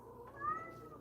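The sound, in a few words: cat in heat meowing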